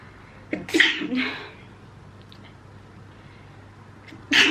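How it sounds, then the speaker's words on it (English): A single sharp sneeze bursts out near the start, followed by quiet room tone and a brief breathy noise at the end. "I'm gonna sneeze"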